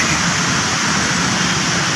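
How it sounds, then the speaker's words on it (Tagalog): Constant dense splashing of water cascading down an escalator-style water feature inside a shopping mall in Taguig City, loud and close, an unbroken rush with no voices. "Escalator na may tubig."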